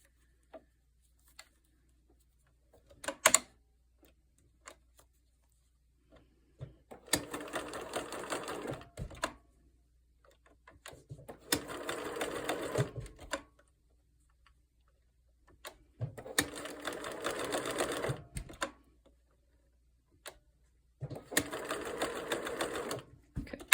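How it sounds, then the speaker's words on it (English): A sewing machine stitching a bar tack with the stitch length at zero to secure elastic in pajama bottoms, running in four short bursts of rapid whirring separated by quiet pauses, close and clear, with a few small ticks and clicks between. "you drop the stitch length down to 0, and it's just going to tack back and forth like this. Okay, it's called a bar tack."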